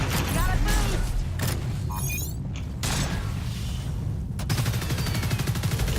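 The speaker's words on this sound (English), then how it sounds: "Switch to our assault rifle, keep getting damage on him." Sustained assault rifle fire in the video game Evolve, loud, continuous and dense, mixed with mechanical creaks and game effects, with a voice talking over it.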